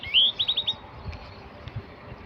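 Sparrows out in open farm fields give a quick run of four or five high, clear chirps right at the start, then fall silent over faint background noise.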